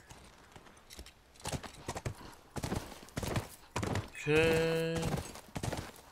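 Horse hooves clip-clop in The Last of Us as the rider mounts and heads for a barbed-wire jump, a series of hollow thuds broken by a bright neighing whinny near the end, with someone talking over it.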